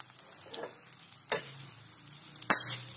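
Onion cooking in a pan, with a soft low sizzle and a few sharp clicks or taps of a utensil against the pan, quiet overall.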